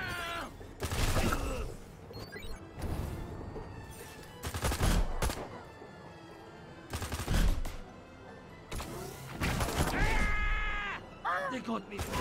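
Bursts of gunfire in the Destroy All Humans video game come in several loud, broadband volleys separated by quieter gaps, with a person talking between the shots.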